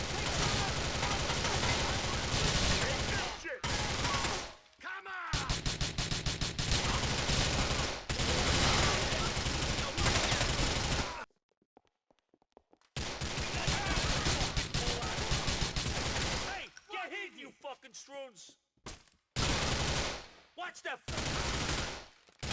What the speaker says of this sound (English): so I start shooting